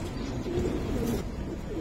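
Giribaz silver pigeons coo softly and repeatedly, a low murmuring purr close by over a steady background hiss.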